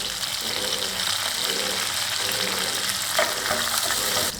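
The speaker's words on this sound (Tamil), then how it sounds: "அதையும் போட்டு நல்லா வதக்கிடுங்க" Shallots and curry leaves sauté in a pan for a mutton curry, giving a constant close, even sizzle with faint rhythmic scraping strokes underneath and no talking.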